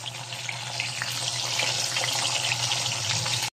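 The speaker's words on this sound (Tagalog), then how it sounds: "Prito-prito lang mga pre." Loud, steady sizzle of remora fish frying in hot oil in a pan, a constant crackling hiss up close with a low hum underneath.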